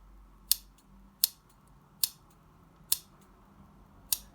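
Scissors snip five times at a slow, even pace, each a sharp, close metallic cut with quiet gaps between.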